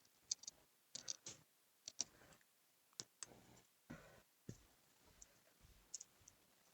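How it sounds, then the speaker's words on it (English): Snipping cuts of scissors through paper, quiet and close, in short irregular bursts with pauses between. "Can't believe I'm fussy cutting with these huge scissors."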